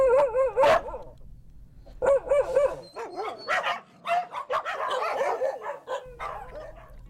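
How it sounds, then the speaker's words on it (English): Several shelter dogs bark and yip in quick, overlapping bursts, some whimpering between barks, close and loud throughout. "these dogs need a home, but human would groan because these dogs will bark"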